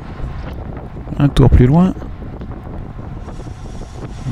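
Strong wind buffets the microphone during a bicycle race in Ribérac, a steady close rumble that continues under a brief spoken phrase.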